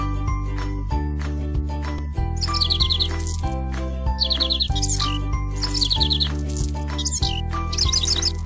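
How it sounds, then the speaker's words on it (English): Bright synthetic bird chirps and tinkling trills sound in repeated bursts over a looping cheerful music track in a children's pony care video game, with no talking. "Let the birds sing."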